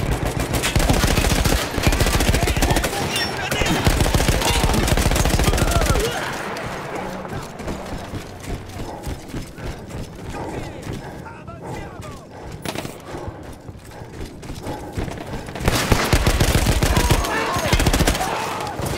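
A mounted machine gun fires in long rapid bursts in the video game Battlefield 1, loud and close, easing into scattered distant shots and battle noise in the middle before another heavy burst near the end.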